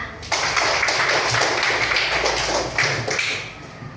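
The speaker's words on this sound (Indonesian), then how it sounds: "Tepuk tangan" Fifth-grade pupils in a classroom burst into applause, a close, continuous crackle of many small hands clapping together for a few seconds.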